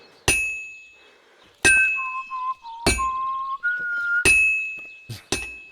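Sharp ringing hammer strikes on metal at a blacksmith's forge in Kingdom Come Deliverance 2, five or six blows spaced a second or so apart, with a short whistled tune sounding between them.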